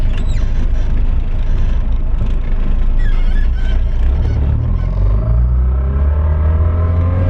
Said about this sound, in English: sounds like input shaft bearing.